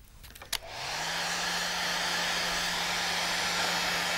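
A hair dryer drying a watercolour still life of fruit switches on after a brief click and then runs as a steady, close, loud whooshing hum.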